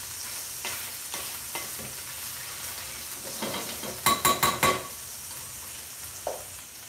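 A hot pan frying curry at a restaurant-style cooking session, steady low sizzle with a burst of quick metal stirring clanks in the middle, fairly quiet and with no voices.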